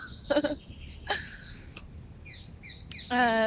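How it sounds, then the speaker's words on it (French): Birds sing outdoors in sparse, bright chirps and short trills spread across a quiet background. One steady harmonic call near the end stands out over the others. "il y a plein d'oiseaux qui chantent. Ils ont l'air trop en forme."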